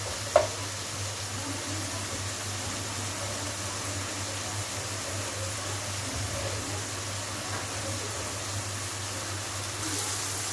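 Chicken sears in a hot pan for shawarma, giving a steady, even sizzle with a faint low hum beneath and one small clink near the start.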